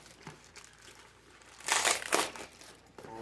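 Crinkly plastic wrapping on a mailed package of diecast toy cars crumples in two loud bursts after a quieter stretch of faint rustling, close up with no talking.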